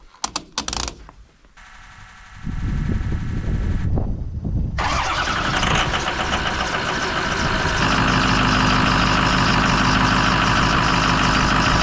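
A Ford F-350 with a 6.0 Power Stroke diesel cranks over and fires after a few clicks, then settles into a loud, close, rough clattering idle that holds steady to the end.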